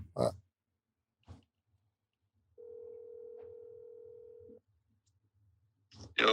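A phone dialing tone plays as a call is placed during a live podcast: one steady, unbroken tone of about two seconds, with short bursts of sound just before and after it.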